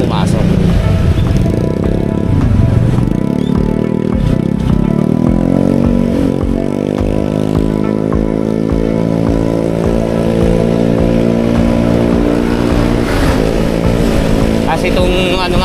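A motorcycle rides along a road, its engine droning loud and close, pitch rising and shifting as it accelerates, while someone talks over the ride.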